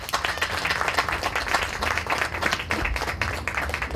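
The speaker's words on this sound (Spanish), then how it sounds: "Lo recibimos con fuertes aplausos." An audience applauds warmly at a Catholic university round-table event in Peru, dense clapping sustained at an even level for a few seconds in an indoor hall.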